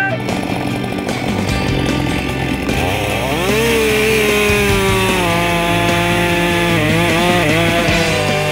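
Husqvarna 560 XP or 562 XP professional chainsaw cutting wood, loud and close, its engine revving up and bogging under load in a steady drone with shifting pitch, no talk over it.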